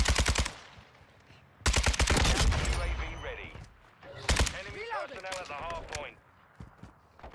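Rapid bursts of Kastov 762 assault rifle fire in Modern Warfare 2, loud and close, with pauses between volleys and brief game voices and sounds in the gaps.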